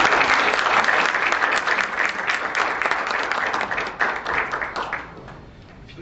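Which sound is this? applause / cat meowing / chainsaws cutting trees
applause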